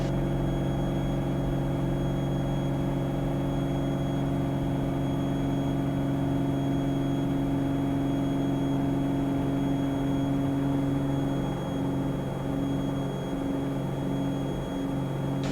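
A light aircraft's engine drones steadily at full power on takeoff over Lake Geneva, a loud continuous hum with a fairly even tone from start to finish.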